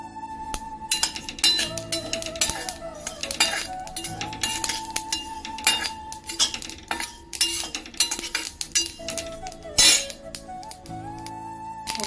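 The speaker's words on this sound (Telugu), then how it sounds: "ఫస్ట్ నువ్వులు వేయించుకుందాం." Sesame seeds for a curry leaf and sesame powder are dry-roasted in a pan, stirred with a spatula that clinks and scrapes against the metal in irregular, fairly loud strokes, with no talking.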